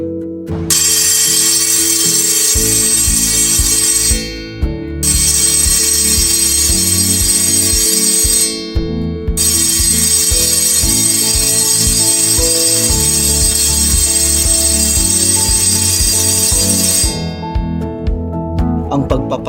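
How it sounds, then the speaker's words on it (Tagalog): A school's fire warning bell rings loudly in three long, continuous bursts separated by short gaps, each ring harsh and metallic, heard alone with no talking. "Ang tunog na ating madidinig ay magmumula sa bell."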